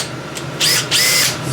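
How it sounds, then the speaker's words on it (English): A cordless power drill drives screws into a small block of wood in two short, loud high-pitched whirring bursts, each lasting under half a second, close by with no talk. "Let's see if it'll run some screws in there."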